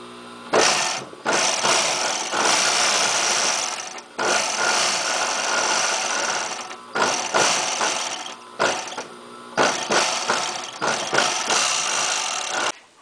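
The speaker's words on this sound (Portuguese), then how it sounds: "agora estamos passando a peça no overlock" An overlock machine stitching fabric pieces, leather for shorts or pajamas, runs in loud steady bursts with short stops between passes, a continuous mechanical whir and rattle.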